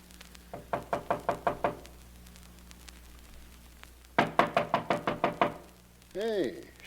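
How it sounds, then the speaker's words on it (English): Sharp knocks on a door in an old-time radio murder mystery drama: a close, evenly paced run of six raps, a pause, then a second run of about seven louder raps, followed by a brief voice. "Wait, I'll knock."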